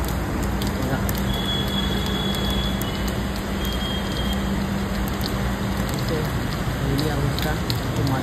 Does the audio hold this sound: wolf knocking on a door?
no